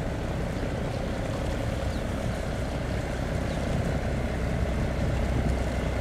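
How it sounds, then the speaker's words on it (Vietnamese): A tugboat's engine runs with a steady, loud, rumbling drone from close by on a canal, with no talking. "Anh quay động cơ thấy được gì hay không nha."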